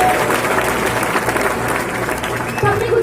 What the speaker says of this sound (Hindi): तालियां एक बार आप सबके लिए